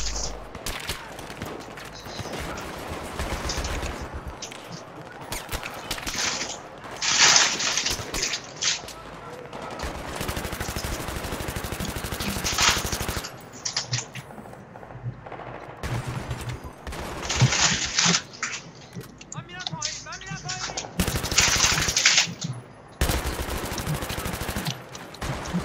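Machine gun fire rattles in the Battlefield 3 video game, with repeated loud bursts of rapid automatic shots separated by short pauses and faint background game sounds between volleys.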